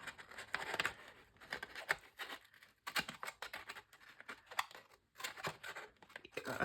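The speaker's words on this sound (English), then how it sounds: "maybe I need my longer scissors to get in and show you how I do that" Scissors snip repeatedly up close, cutting material for homemade mailers, short crisp cuts in irregular bursts with brief quiet pauses between them.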